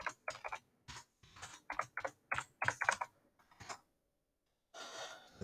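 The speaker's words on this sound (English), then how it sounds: "I'm just gonna write the whole alphabet." Quick typing on a computer keyboard, entering the alphabet: close, crisp key clicks in fast irregular clusters, then a brief pause and a soft rustle.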